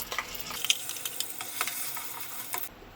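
A blended cashew masala paste sizzles and spatters in hot oil in a pan, with steady crackling and scattered pops up close.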